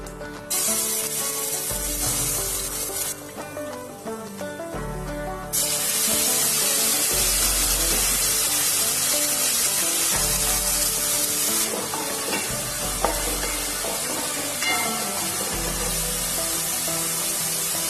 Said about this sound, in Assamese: মই এতিয়া এয়া পিচি লোৱা আদা নহৰু পেষ্টখিনি তাত দি দিম।